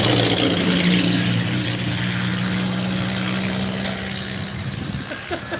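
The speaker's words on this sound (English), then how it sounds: "And another truck." A truck rolls past on a nearby road, its low engine rumble loud at first and then slowly fading as it moves away, heard alone without talk.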